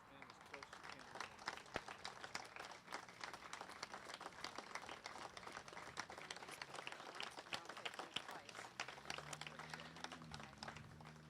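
At a statue unveiling ceremony for Malinda Covington in Washington City, a crowd applauds with faint, scattered clapping heard from some distance, mixed with low background murmur and a brief tone near the end.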